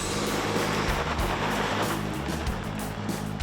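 A 2023 Chevy Colorado Trail Boss truck on 32-inch tires drives off-road along a forest service road, its engine rumbling steadily beneath crunching, bumping tire and suspension noise, close and loud.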